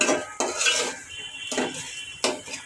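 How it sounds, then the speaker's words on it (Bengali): Tomatoes sautéing in a pan for a Bengali fish and potato curry, with about four sharp scrapes of a metal spoon stirring them over a soft sizzle, close by and with no speech. "টমেটো কষানো হচ্ছে।"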